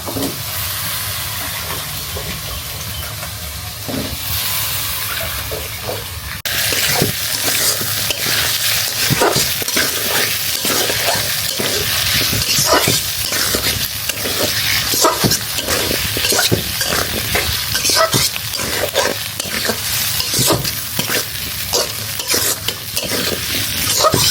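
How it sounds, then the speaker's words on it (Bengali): Potatoes are stirred and fried with cooked spice paste in a pot, a loud steady sizzle with repeated scraping spoon strokes that grow busier and more rhythmic after the first few seconds, with no talk. "আমি একটু আলুর সাথে ঝোলটা একটু মাখা মাখা করে ভাজা ভাজা করে তারপর পানি দেব।"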